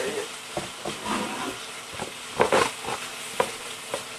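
Food fries in Crisco in an iron pan, a continuous sizzle and hiss broken by stirring clatters and scrapes, fairly close and loud.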